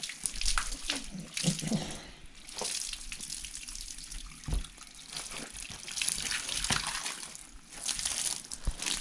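Cold water runs from a hose onto an injured horse's leg, a steady hiss of flowing and splashing water with brief pauses and small knocks, close by.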